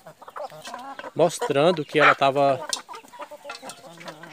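Free-range hen clucking in a series of loud, close, drawn-out calls, sounding under and between someone talking.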